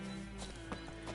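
Roach, Geralt's horse in The Witcher 3, gives brief hoof clip-clops with a short whinny-like tone, close and fairly faint over a steady game backdrop.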